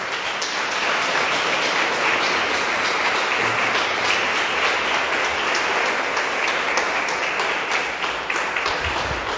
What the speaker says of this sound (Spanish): ríndele un fuerte aplauso